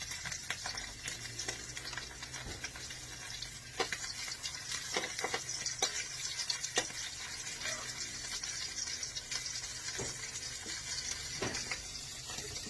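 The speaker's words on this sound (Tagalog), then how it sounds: "Prito natin. Tilapia at saka tuyo." Tilapia and dried fish frying in a pan, giving a steady bright sizzle throughout with occasional sharper crackles and pops, close up and with no talking.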